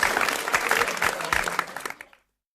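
Applause from spectators after an 86 pool run, a burst of brisk clapping that thins and cuts off abruptly, leaving silence.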